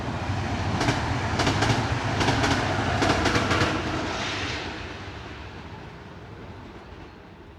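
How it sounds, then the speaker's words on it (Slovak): A train rolls past on a railway right beside a settlement, a loud nearby rumble with rhythmic clacking of wheels over rail joints that gradually fades as it moves away. "Poďme sa pozrieť, ako to vyzerá, keď prejde vlak."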